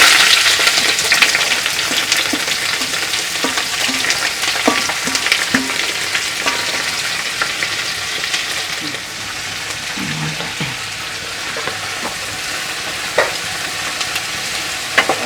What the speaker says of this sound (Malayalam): കുറച്ച് ചെറിയ ഉള്ളിയും ചേർത്ത് സവാളയും കരിവേപ്പിലയും ഇട്ട് ഇളക്കുന്നു